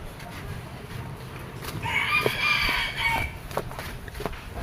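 A chicken calls out with a brief excited squawk in the middle, fairly close, over light outdoor background noise and a few scattered knocks, with no talking.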